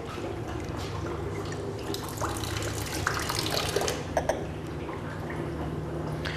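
Beer runs and splashes from a fermenter tap into a container, a steady pour with some gurgling and a couple of clinks near the end.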